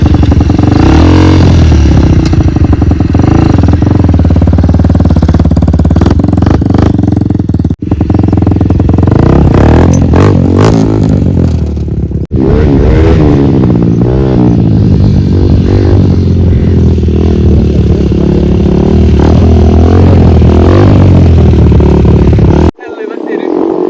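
A modified Honda CRF dirt bike sits up close, its engine revving and roaring loudly and continuously, with throttle blips and clattering, while people talk over it.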